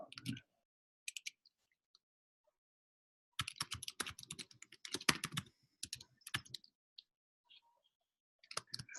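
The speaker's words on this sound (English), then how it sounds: "I'm typing the title in, so I'll give it a second." Keys on a computer keyboard are typed in short, uneven bursts of crisp clicks and taps, close and clear, with silent pauses between flurries.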